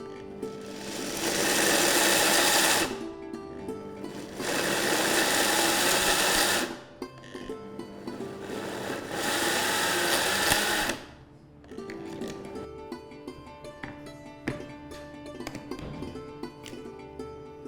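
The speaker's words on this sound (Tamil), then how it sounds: "இது ஸ்லோவில் பல்ஸ் மோட்ல ஆன் ஆஃப்ல அரைக்கணும்" A mixer grinder grinds peanuts in pulse mode, giving three loud, close bursts of whirring motor noise, each a few seconds long, with short pauses between them. Quieter clattering follows after the last burst.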